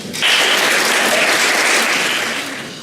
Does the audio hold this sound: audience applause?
yes